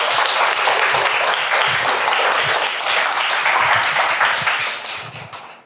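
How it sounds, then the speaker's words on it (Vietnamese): A classroom of pupils applauds a classmate during a primary maths lesson, steady broadband clapping filling the room for several seconds before tapering off at the end. "hãy thưởng cho bạn ấy một tràng pháo tay"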